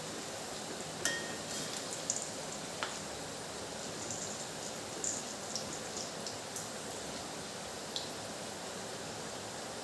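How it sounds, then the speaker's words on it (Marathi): Soft, steady rain hiss with a few scattered drops ticking sharply now and then, fairly quiet and continuous. "पाऊस पडलेला आहे"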